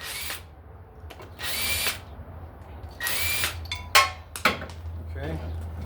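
A power tool whirs in several short bursts while removing brake caliper bolts on a 2019 Honda Accord, with metallic clinks between runs, close by, and a person talking.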